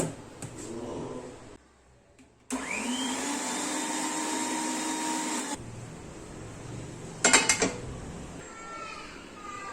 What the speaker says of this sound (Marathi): आता पालकासोबतच मी पुदिना आणि कोथिंबीर आणि थोडंसं आलं हे सर्व मी वाटून घेते